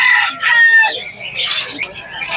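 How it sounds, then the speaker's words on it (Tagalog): Many birds, including roosters, chirp and crow together at the busy Bocaue, Bulacan pet market, with bright overlapping calls close by and steady crowd noise underneath. "napakarami din pong ibon dito"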